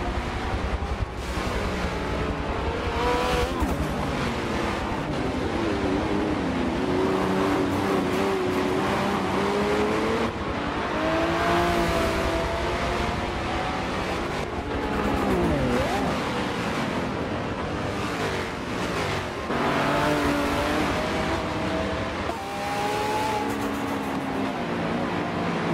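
A race car engine in Forza 7 at Circuit de Catalunya roars loud and continuous, rising and falling in pitch through gear shifts and throttle changes for the whole stretch.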